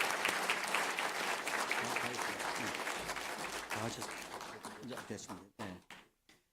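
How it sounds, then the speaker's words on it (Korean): An audience claps at a missionary retirement thanksgiving service, a sustained warm round of applause that thins into scattered claps and fades out at the end. "한번 힘차게 박수해 주시기를 부탁드리겠습니다."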